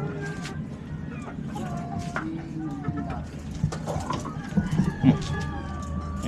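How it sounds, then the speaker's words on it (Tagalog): Chickens clucking and calling near a rural house, soft scattered clucks and squawks mixed under ongoing conversation of people talking nearby. "May mga manok."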